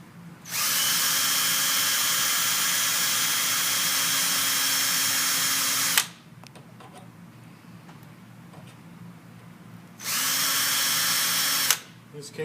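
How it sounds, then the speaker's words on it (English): A power drill boring holes for a sagging hinged screen door's hinge runs in two loud, steady bursts, a long one of about five seconds and a shorter one near the end, separated by a quiet pause. "we'll continue to drill these holes"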